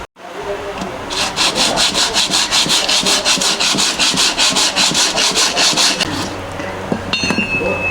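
Rapid rhythmic rubbing scrapes over a car brake pad surface during cleaning at a garage, about two strokes per second, close and loud, continuing steadily for several seconds before stopping.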